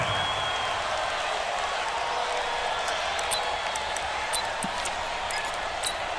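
Stadium crowd noise from the video game Madden NFL 20 during a Cowboys vs Packers game, a continuous steady roar filling the whole stretch with faint high ticks on top.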